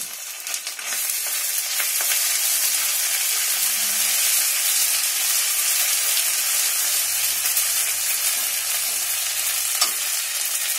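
Ginger paste and dried red chili paste sizzle in hot oil in a pan while cooking a vegetarian potato curry, giving a loud, steady, close frying hiss with occasional stirring.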